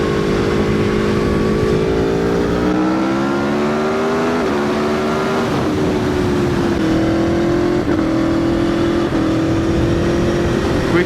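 An Aprilia Tuono V4 1100 Factory motorcycle accelerates hard, its V4 engine note climbing steadily through the mid-range with brief dips at each quick-shifted gear change, loud and continuous throughout.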